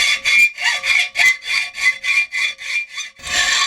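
Hacksaw blade cutting through a workpiece clamped in a vise, close and loud, with about a dozen steady rhythmic rasping strokes back and forth and no talking.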